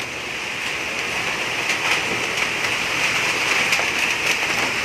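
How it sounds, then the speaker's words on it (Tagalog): Rain falls on a goat farm after a week of hot weather, a dense, even hiss of drops spread across the whole scene with no breaks and no voices. "Ngayon lang ulit umulan."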